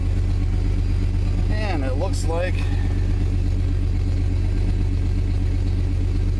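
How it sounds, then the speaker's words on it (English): Engine of a 1995 Chevrolet Suburban runs in a steady low rumble throughout, close by, with a person talking briefly over it partway through. "I know the engine's loud enough as it is."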